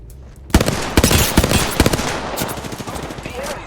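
Enemy gunfire in Apex Legends erupts suddenly after a short quiet, loud rapid bursts of automatic shots crackling close by and continuing in uneven volleys.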